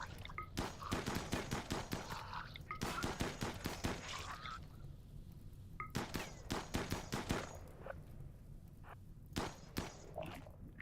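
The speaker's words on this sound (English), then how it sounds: "Masterwork assault rifle." A masterwork assault rifle fires in the RimWorld video game, heard as rapid bursts of crackling shots in dense volleys. After a short pause, scattered sharper single shots follow, all fairly close and without speech.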